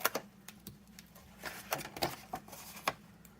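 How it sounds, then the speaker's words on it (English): Small scissors snip paper along a score line in a quiet craft setting, a series of faint, sharp clicks and cuts spaced irregularly, close and alone. "with my small scissors, I'm just going to cut out"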